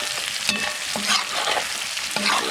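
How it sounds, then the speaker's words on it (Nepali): Pork sizzling steadily in a hot pan with onions, heard up close as an unbroken frying hiss with a few soft stirring scrapes and no voices. "ल दामी मासु चाहिँ यत्तिको फ्राई भयो"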